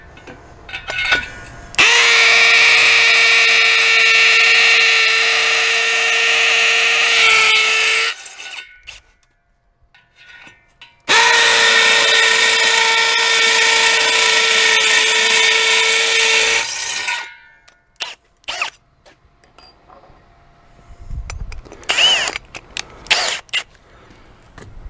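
A power drill with a quarter-inch bit bores a hole in a wooden gate post and then drives in a star bolt, in two long steady whining runs with a pause between, followed by scattered handling knocks.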